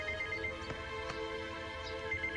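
A mobile phone rings with a steady electronic ringtone of sustained tones. It sounds moderately loud and fairly close, with nobody talking over it.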